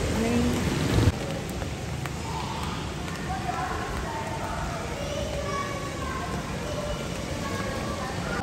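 Heavy rain falls at night in Karachi, a dense, steady hiss of drops on surfaces that continues unbroken, with a brief louder knock near the start.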